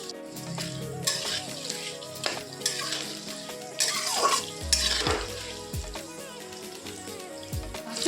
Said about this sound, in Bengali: এবার স্বাদ মতো নুন দিয়ে আলুটাকে ভালো করে ভেজে নেব লাল লাল করে